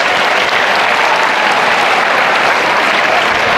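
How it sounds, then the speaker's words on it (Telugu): A large audience at a school motivational event for tenth-grade students bursts into loud, dense applause that holds steady throughout, close and filling the room without any voices. "పెద్ద క్లాప్, 3 claps."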